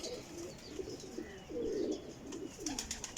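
Quality pigeons at a breeder's loft coo in soft, low, rolling calls, close by, with faint chirps and no talking.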